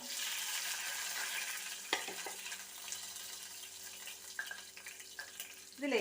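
Mustard seeds and dried red chilies fry in hot oil with a steady sizzle and scattered pops, punctuated by a few clinks of a spoon against the pan, while making rasam.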